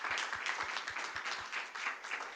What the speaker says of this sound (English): Applause for Katarina.